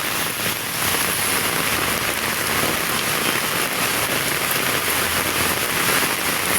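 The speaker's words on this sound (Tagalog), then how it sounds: "Isog na kay ulan mga kakers." Heavy rain pours down in a steady, dense hiss of drops striking surfaces, loud and unbroken throughout, with no talking.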